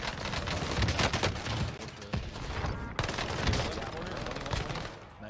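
Rapid bursts of PPSh submachine gun fire in the shooter game Warzone, loud and close, with dense overlapping rounds and short pauses between strings, and voices talking faintly underneath.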